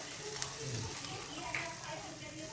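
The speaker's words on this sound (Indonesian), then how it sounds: "Ini saya nak kasih sedikit minyak dengan serai pemirsa" Oil and lemongrass sizzle in a Teflon pan during home cooking, a steady close frying hiss with faint voices underneath.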